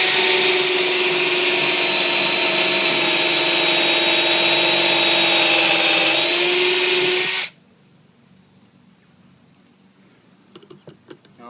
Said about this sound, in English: So there's 2 pocket holes that we just drilled into this 2x4.